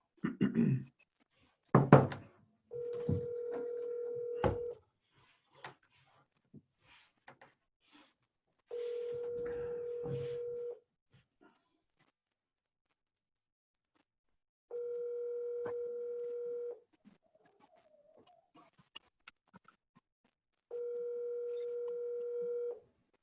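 Telephone dialing a call: a quick burst of keypad tones followed by repeated long steady ringback tones separated by silences, with a few faint clicks in between.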